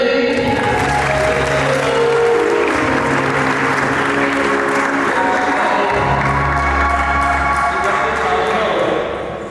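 Wedding guests at a nikkah ceremony break into loud applause and cheering, a continuous close crowd roar with clapping and some whoops, and a low hum and voices running beneath throughout.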